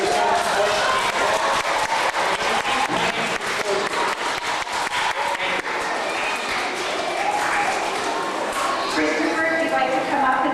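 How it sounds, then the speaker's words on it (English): Applause from a school audience fills a community gathering in Sturgeon Falls, Ontario, a dense, steady wash of clapping at close range that carries unbroken from start to finish. "give yourselves a round of applause because you're the most important people."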